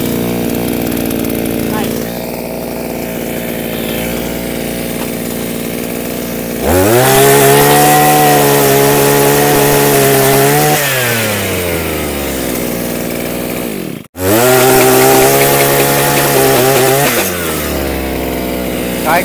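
A petrol earth auger for digging tree pits, at a farm machinery dealer, idles loudly, then revs up into a high whine, drops out briefly and roars back up again, with talk underneath.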